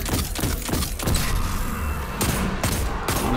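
Rapid bursts of gunfire and heavy impacts in the video game Destiny during a Nightfall mission, loud and dense with repeated thumping shots throughout.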